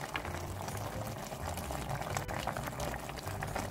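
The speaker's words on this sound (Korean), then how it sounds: "이렇게 두부가 콕콕콕콕 끓었으면 불을 중간으로 쪼여준 다음에 국물을" Tofu braising in simmering broth in a pot, bubbling steadily and continuously at close range with no talk over it.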